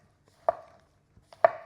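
A Santoku knife slices through a mushroom onto a cutting board with a push-through cut, two crisp, distinct knocks about a second apart, close and clear with quiet between.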